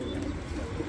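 Yemeni white pigeons cooing softly in a loft, low rolling coos close by over a steady background hum.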